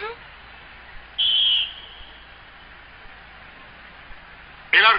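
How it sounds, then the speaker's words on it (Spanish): A referee's whistle in an animated football match blows one sharp, shrill blast, followed by quiet background and then a second blast cut off at the end. "El árbitro silba."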